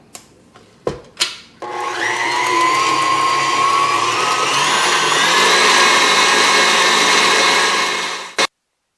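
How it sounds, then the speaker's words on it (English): An electric hand mixer beating apricot cake batter in a bowl: a few clicks and brief bursts, then a loud steady whirring motor drone for about seven seconds before switching off abruptly, heard up close and alone. "And now I'm going to mix it."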